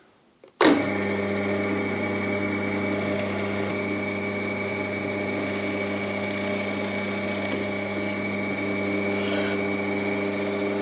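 A power drill starts abruptly and runs at a steady, loud whine with a constant motor hum, boring holes in wood without pause for several seconds.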